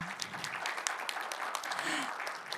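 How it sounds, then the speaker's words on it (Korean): An audience at a Korean youth science and technology forum applauds a government minister, a steady, dense clapping that fills the room for a couple of seconds. "박수 한번 주십시오"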